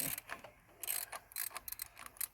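A stud extractor tool works the intake studs on a Mercruiser 2.5 motor, giving quiet, close-up ratcheting clicks and metallic ticks in irregular quick bursts.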